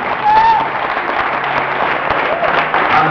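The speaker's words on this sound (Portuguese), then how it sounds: "Uma salva de palmas a Jesus." A church congregation claps together in praise of Jesus during a Portuguese-language worship service, a dense steady patter filling the room for a few seconds, with a faint voice briefly rising above it.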